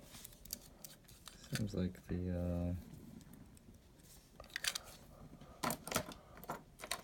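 A fountain pen nib is screwed down into its inner cap, producing small scraping and ratcheting clicks, including one buzzing, rapid grinding stretch. The sounds are close and soft, with a little talk around them.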